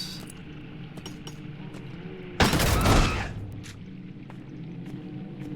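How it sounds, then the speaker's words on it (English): A single grenade blast in the video game Crow Country, a sudden loud burst of noise lasting about half a second amid quiet game ambience with faint clicks. "Let me try to use a grenade."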